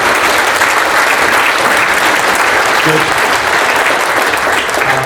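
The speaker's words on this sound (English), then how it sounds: "Big round of applause." After a panel discussion, a big round of audience applause rings out loud and sustained, thick and even across the whole stretch, with someone speaking briefly over it.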